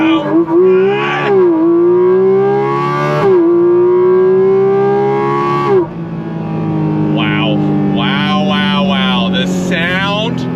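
A Porsche 718 Cayman GT4 RS flat-six engine under throttle, loud and close, with revs surging and falling back several times, then a rougher, choppier stretch of rising pulls.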